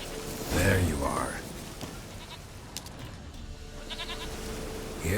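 Goat bleating in The Witcher 3 video game, one loud nearby bleat at the start, followed by a softer ambient outdoor background with faint fainter calls.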